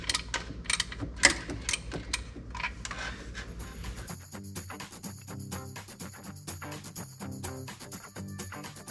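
Ratchet clicks and metallic mechanism sounds while bolts are pulled from a jet ski, with sporadic sharp taps at first, then a steady fast ratcheting rhythm up close.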